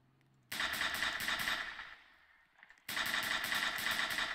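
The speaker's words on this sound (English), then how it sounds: "Yeah, shots fired, shots fired." Rapid automatic gunfire in a Roblox Emergency Response: Liberty County shootout, loud sustained bursts that briefly thin out and then resume at full intensity, with no voices over them.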